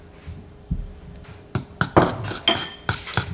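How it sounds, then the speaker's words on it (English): Pineapple tart dough being mixed roughly in a bowl, with a few sharp clinks and scrapes of utensil against the bowl in an uneven cluster, close and moderately loud. "We mix it very quickly and roughly just to combine these two together"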